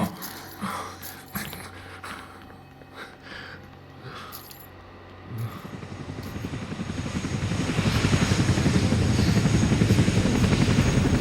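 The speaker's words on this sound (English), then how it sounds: "He's taking everyone on the Chinook back to the mainland." A Chinook helicopter's rotor thump builds steadily from faint to loud and close, its dense beating drone swelling into a heavy roar.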